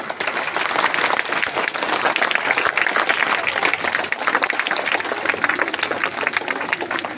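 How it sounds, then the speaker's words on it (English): A crowd of students and staff at a school oath-taking ceremony applauds, a dense, steady burst of many hands clapping that fills the space for several seconds, with a few voices faintly beneath. "Let's give a clap."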